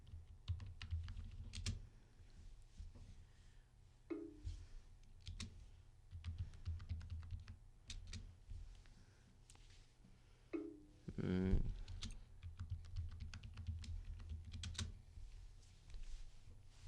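Someone types a username and password on a computer keyboard, producing quiet, close bursts of key clicks in short irregular runs with brief pauses between them.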